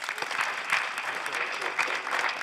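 Audience applause at a school's eighth-grade moving-on ceremony, a steady dense clapping from a crowd filling the room for a few seconds, with no voices over it.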